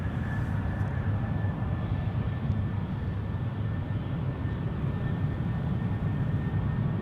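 KLM Boeing 737-700 jet departing Amsterdam Schiphol for Oslo, a steady low engine roar and broad rumble with a thin high whine, sustained and fairly even throughout, no talking.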